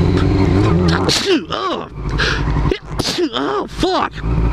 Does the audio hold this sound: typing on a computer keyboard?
no